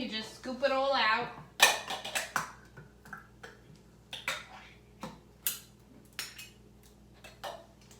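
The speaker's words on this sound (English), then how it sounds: "you do the same thing for the next can. You just scoop it all out." A spoon scrapes and clinks against a metal can while scooping out its contents for homemade chilli, giving a series of short, sharp knocks spaced irregularly after a brief stretch of talking.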